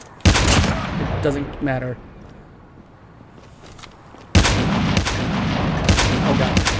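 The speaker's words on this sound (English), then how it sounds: "this is a automatic rifle" Automatic rifle fire in Call of Duty Mobile: a loud burst, a short lull, then sustained rapid shooting, with someone talking briefly over the opening shots.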